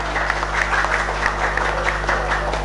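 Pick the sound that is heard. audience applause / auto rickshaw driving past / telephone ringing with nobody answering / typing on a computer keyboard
audience applause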